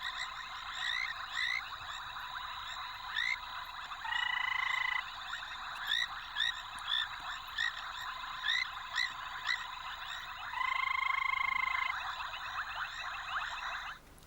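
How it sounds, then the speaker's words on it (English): Frogs croak and trill near a pond in a steady chorus, with short repeated calls and a couple of longer buzzing croaks standing out clearly over a quiet background. "Some frogs like to croak a lot."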